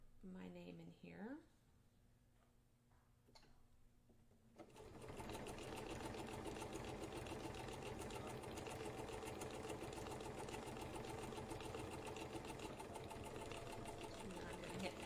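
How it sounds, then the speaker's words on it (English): A computerized embroidery sewing machine with a circular embroidery attachment starts up after a quiet stretch with brief speech, then stitches in a rapid, steady, close-up mechanical chatter for the remainder. "I'm going to hit pattern end when it starts stitching the last stitch."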